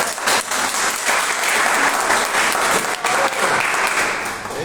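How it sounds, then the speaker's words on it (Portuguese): Loud, steady applause from an audience at a church gathering, a dense wash of clapping hands filling the room without pause, close and enveloping. "Gente, uma salva de palmas."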